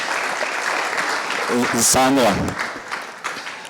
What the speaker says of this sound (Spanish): entonces un aplauso a Claudia antes de que se nos vaya.